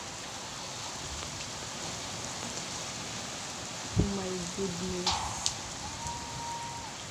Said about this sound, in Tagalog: Ulan na naman dito sa Jeddah, oh.